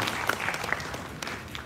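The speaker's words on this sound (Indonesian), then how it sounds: "Boleh kasih tepuk tangan buat Akademi Relawan." Audience applause at an Indonesian volunteer rally, a dense, steady wash of clapping that carries on without a break at moderate loudness.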